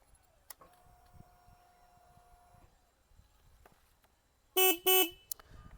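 Horn on a 2026 Harley-Davidson X440T motorcycle, sounded in two loud, close blasts near the end after quieter handling noises and a faint tone, with no talking.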